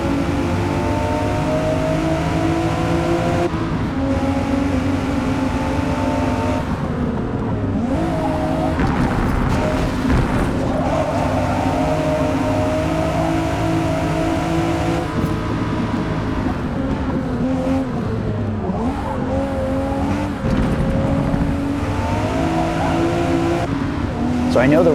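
Race cars in Forza Motorsport career mode roar continuously around a track, with packed engines droning and revving close by and occasional tire squeal, under steady talk.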